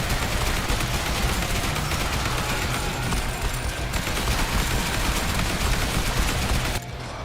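Assault rifle fire in the zombie survival video game Yet Another Zombie Survivors roars nonstop, a loud continuous automatic stream with dense overlapping shots that cuts off abruptly just before the end.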